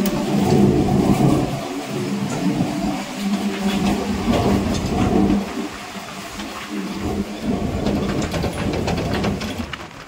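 A local train on the Digha line rushes past at high speed, a loud rumbling, rattling roar of wheels and carriages that swells and eases in waves, heard close by without talk.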